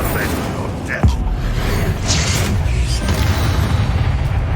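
A Bombarda explosion spell goes off in the Hogwarts Legacy video game, a loud boom with a sharp thump and rumbling tail amid other combat effects and swishes, and a voice talks over it.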